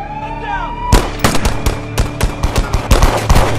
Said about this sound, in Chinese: 可刚过来的时候突然开枪